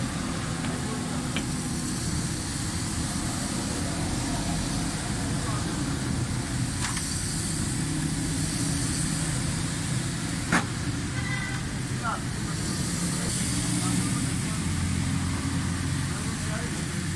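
Suzuki Cultus three-cylinder car engine idling with a carburetor fault causing fuel trouble and misfiring, a steady close rumble throughout in a rainy outdoor workshop, with a few sharp clicks and faint talk in the background.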